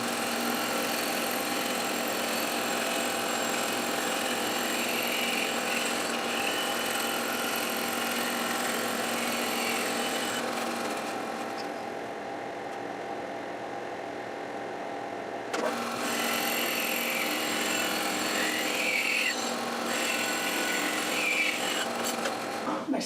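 Band saw with a 3/4 inch wide, 10 teeth per inch blade resawing a wood board in half, a sustained tonal motor whine with cutting noise that eases midway, then resumes loudly; close and continuous.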